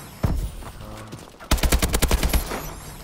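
Fast bursts of AK rifle fire from the video game Call of Duty: Advanced Warfare: a sharp single shot, then a rapid run of close, loud rounds, with quieter game noise between them.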